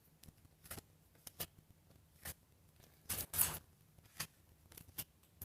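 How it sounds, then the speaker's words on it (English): Tarot cards are gathered up close by, with a series of crisp slaps and light clicks at uneven intervals and no talking. "give me 1 second to pick up these cards"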